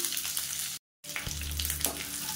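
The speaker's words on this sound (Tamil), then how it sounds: "கடுகு சீரகம் பொரிய ஆரம்பிக்குது" Mustard seeds and cumin crackle and splutter in hot oil in a pan with curry leaves and asafoetida, a steady close-up sizzle with sharp pops, broken by a brief gap of silence before the frying resumes.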